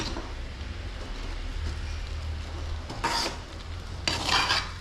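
Sago pearls are stirred into upma in a pan, making a soft, continuous scraping and rubbing with two louder, rasping strokes near the end.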